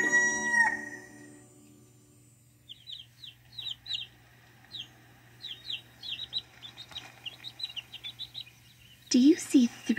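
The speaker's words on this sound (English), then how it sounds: "His crow is loud and bold and proud" A farm rooster crows loud and bold, one long call at the start, followed by a stretch of quick chirping birds and a final clucking burst near the end, close and clear over a faint steady hum.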